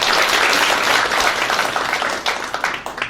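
Loud applause from residents at a 2017 district community meeting: dense crowd clapping that stays strong, then thins into scattered individual claps as it fades toward the end.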